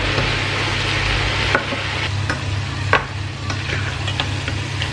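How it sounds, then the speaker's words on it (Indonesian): Small dried shrimp (rebon) fry in a pan with a steady, dense sizzle, broken by a few sharp stirring scrapes and clicks; no one speaks. "Sekarang kita goreng si rebon."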